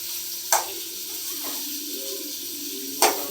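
Eggplant curry base sizzling steadily in hot oil, a continuous close frying hiss with two sharp clicks of a utensil against the pan.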